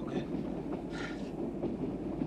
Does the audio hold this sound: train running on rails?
yes